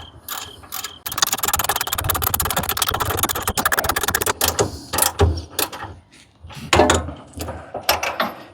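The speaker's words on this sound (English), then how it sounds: "use the ratchet to tighten it down" Ratchet cranking a sway bar link bolt tight on a Ford Ranger, with a dense run of rapid clicking and mechanical rattling that breaks into shorter bursts, fairly close and loud with no talk.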